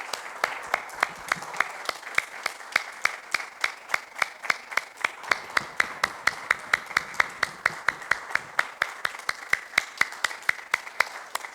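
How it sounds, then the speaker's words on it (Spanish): Church congregation clapping together in a steady, fast rhythmic beat, each clap sharp and evenly spaced, sustained for several seconds at moderate level with no voice on top. "Vamos a darle un aplauso al Señor ahora con más poder,"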